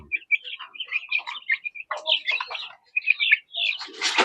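Kabir chicks and ducklings peeping and chirping close by, a busy overlapping stream of high calls with brief pauses and a louder burst at the end.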